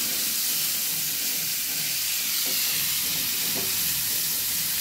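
Oil frying hard over a high flame, a steady dense sizzle and hiss that holds close and even throughout with a few faint stirring scrapes underneath.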